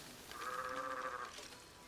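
A goat in the video game Diablo 3 lets out one drawn-out, wavering bleat lasting about a second, faint and set against a soft game background.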